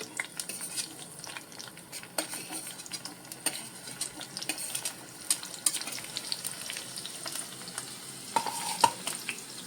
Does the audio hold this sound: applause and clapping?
no